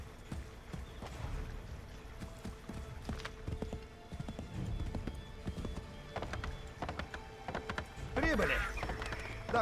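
Horse hooves clip-clop in Assassin's Creed 3, a quiet, uneven run of hoof strikes over a low game background, with a brief squeaky animal-like call near the end.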